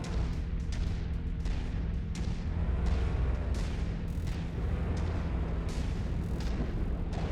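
Weapon fire and explosions in the Mechwarrior 5 video game, heavy repeated booms and blasts over a deep rumbling background, steady and loud with distinct impacts every second or so.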